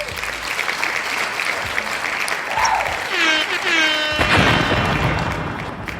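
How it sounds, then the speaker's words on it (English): A podcast audience gives a round of applause for mothers on a ladies night episode, steady moderate clapping with a brief whistle-like tone and some voices mixed in. "Let's give a round of applause for the mothers out there."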